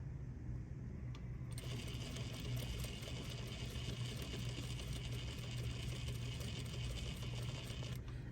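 A sewing machine runs steadily through a quilt block at moderate volume. It hums continuously for the whole stretch, and a faint higher whir comes in partway through, with no talking.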